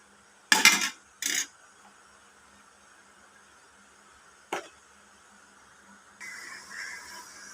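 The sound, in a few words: pot lid being put back on a pot of coconut milk adobo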